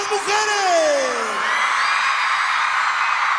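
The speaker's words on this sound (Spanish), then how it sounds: "¡Cómo escucha el grito de las mujeres!" Women in the crowd scream at the final of a 2008 radio festival. A loud yell slides downward, then a sustained wash of crowd screaming and cheering follows.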